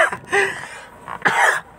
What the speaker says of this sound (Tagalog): Wait lang, ubo muna tayo.